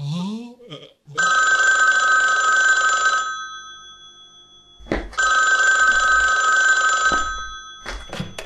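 A telephone rings twice with long electronic bursts of ringing, loud and close, separated by a pause, with brief voice sounds at the start and end.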